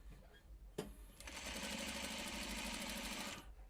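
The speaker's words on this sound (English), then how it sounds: "And I'm starting to sew." A sewing machine stitches a quilt block, starting after a brief click and then running in a steady, fast, even needle rhythm for a few seconds at close range, with no talking.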